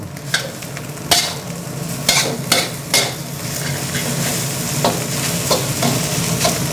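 Jasmine rice fried with dark soy sauce is stirred and pressed in a hot pan, with a steady sizzle and repeated scraping and clinking strokes of the spatula up close, no voices.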